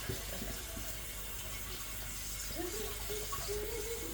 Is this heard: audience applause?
no